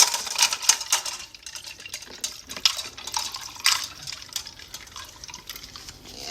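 Water trickles and splashes into a bowl for a boxer dog in labor at home, a steady close-up liquid sound with small irregular drips and clinks throughout.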